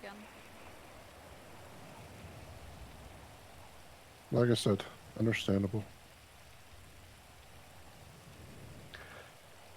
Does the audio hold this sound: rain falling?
yes